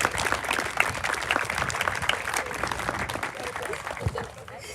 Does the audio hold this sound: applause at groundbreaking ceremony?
yes